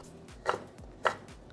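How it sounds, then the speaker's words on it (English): Fresh ginger being cut on a board for an Indonesian chicken soup paste, two crisp knife chops sounding close and clear about half a second apart over a quiet kitchen background. "cut this up, the ginger."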